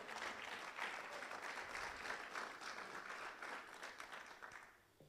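A church congregation at a night vigil applauds in a steady, dense wash of clapping that holds throughout and fades at the end, fairly distant.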